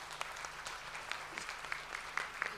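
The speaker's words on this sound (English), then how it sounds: "may I please request you to give a round of applause to Brother Jonathan" Soft, distant applause from a summit audience for Brother Jonathan, steady patter of many hands with a few sharper claps, fairly faint.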